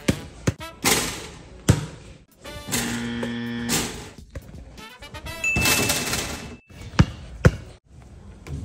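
A basketball bounced on the hard floor of a Walmart store, giving several sharp, loud thuds at uneven intervals amid indoor store clatter and noise.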